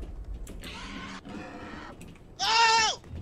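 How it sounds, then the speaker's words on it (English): An angry pig squeals in a video game: two strained, quieter squeals come first, then one loud, sharp squeal that rises and falls before cutting off. "That's an angry pig."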